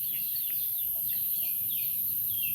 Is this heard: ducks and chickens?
yes